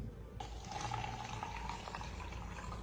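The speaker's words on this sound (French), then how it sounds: "nous venons de remplir nos différents verres" Tap water is poured into a drinking glass, a faint, continuous trickling and splashing with a rising fill tone, quiet and close.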